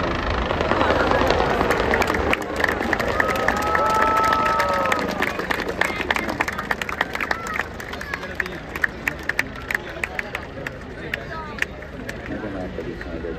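Helicopter flying over a crowd at the Budapest Air Show on the August 20 national holiday, a steady droning rotor roar heard from a distance amid crowd noise and scattered claps.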